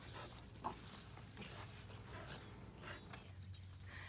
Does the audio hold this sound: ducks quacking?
no